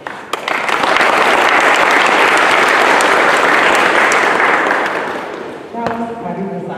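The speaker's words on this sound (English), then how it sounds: "can we put our hands together and give him a clap to welcome him" Audience at a civic education forum applauding to welcome a speaker, a loud, dense burst of clapping that swells and holds for several seconds before fading, ending in a few scattered claps.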